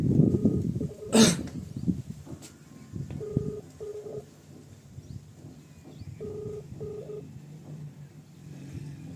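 Several short electronic dialing beeps in brief clusters, fairly quiet over low background rumble, with a cough-like burst near the start.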